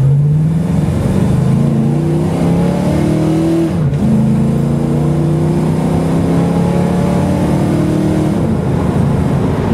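A 1970 Mercury Cougar cruising at low revs around 2,000 RPM, its engine a steady, close droning hum with a brief dip in pitch as it shifts, then settling back into an even tone.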